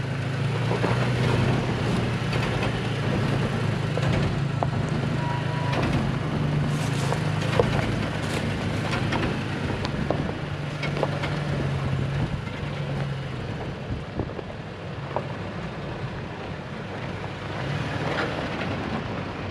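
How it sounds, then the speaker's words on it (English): Steady mechanical droning and whirring from an old ABS system on a lifted Toyota Tacoma TRD Off Road as crawl control handles the throttle and brakes on an off-road trail, a continuous low rumble with faint clicks throughout. "It's noisy. The old ABS system, that's what you're hearing."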